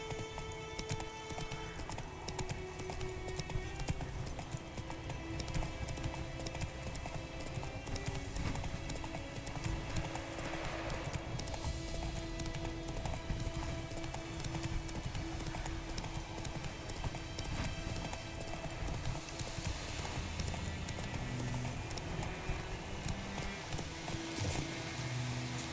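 A horse gallops in The Witcher 3, its hooves pounding in a steady, rapid clip-clop that runs continuously and loudly beneath dense game music and ambience.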